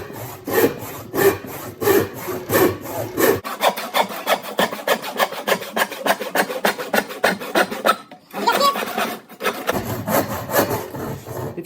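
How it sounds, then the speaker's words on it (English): A hand saw cuts through wood for a simple birdhouse in steady, rapid back-and-forth strokes, close and loud, with a brief pause and a change in stroke pace partway through. "you can do this whole project with hand saws"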